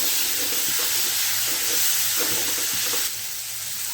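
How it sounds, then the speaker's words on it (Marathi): Soaked moong dal sizzles in hot oil, a loud, close hissing fry with faint rhythmic stirring scrapes, easing slightly toward the end, with no talking. "आता यामध्ये मी मुगडाळ भाजी करायच्या अगोदर दहा मिनटं ठेवलेली होती तर ती पण टाकून घेते तेलामध्ये ती परतून निघेल"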